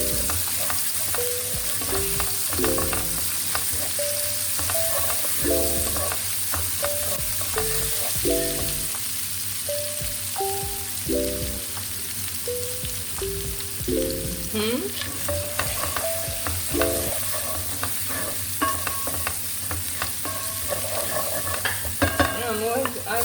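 Minced garlic, ginger and optional pili sizzle and fry steadily in a hot pan for over twenty seconds, with repeated stirring scrapes and a faint background hum; no one speaks.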